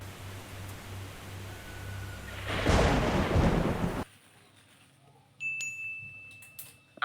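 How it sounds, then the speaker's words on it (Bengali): A heavy rain and wind storm roars as a broad, rushing wash that swells louder for a moment, then stops abruptly, leaving a quieter space with faint scattered sounds. "আশেপাশে যে এত পরিমাণে পানি আর বাতাসের শব্দ হচ্ছে"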